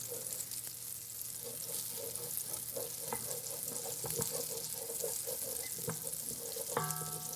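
Food sizzles and crackles steadily in an enameled cast iron pan, with occasional stirring clinks and a brief utensil tap near the end, no talking.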